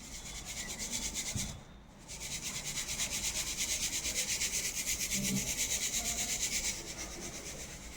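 Ground spice mix being sifted through a sieve, a rhythmic scratchy rubbing that runs steadily for several seconds, breaks off briefly, then resumes at an even pace, with no talk.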